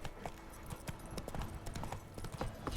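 Roach the horse galloping in The Witcher 3, rapid clip-clop hoofbeats in a fast continuous rhythm, fairly faint and steady.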